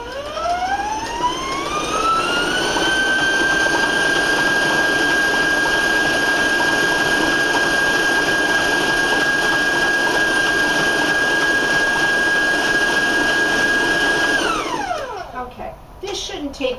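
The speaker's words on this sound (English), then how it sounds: "I tend to mix it on extremely high so it goes very, very quickly" An electric mixer runs on extremely high speed through lemon cake batter with milk added, its motor whine rising quickly to a loud, steady pitch, holding, then winding down at the end.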